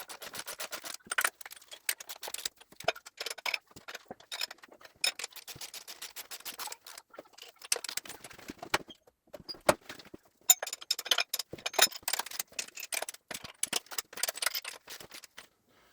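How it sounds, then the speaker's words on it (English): A ratchet clicks in quick bursts while the cylinder head bolts on a Dorman 2LB engine are nipped down during an overhaul. The sharp metallic ticking runs in intermittent runs with short pauses and is fairly faint and close, with no speech. "we can get on and torque the cylinder head down"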